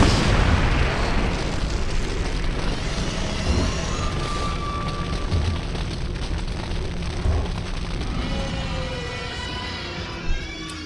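A cannon-blast explosion sound effect played during a Dungeons & Dragons 5e tabletop session, a sustained rumbling boom filling the whole stretch with a sharper burst near the end.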